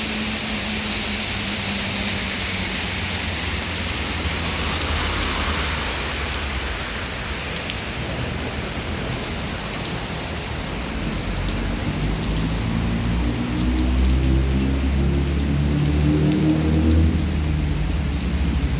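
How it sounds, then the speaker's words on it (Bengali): Heavy rain pours down steadily in a dense, constant hiss, with deep rumbling underneath that grows louder toward the end. "আবার বৃষ্টি বাড়ছে"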